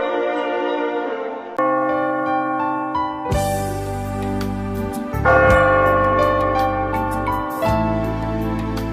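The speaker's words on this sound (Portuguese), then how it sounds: "Lá distante se ouve o sino" Church bell tones ring out over layered music, sustained chiming notes changing every couple of seconds, full and loud with no talking.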